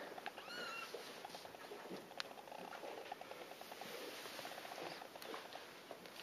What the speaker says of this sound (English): That's just general kitten fighting going on.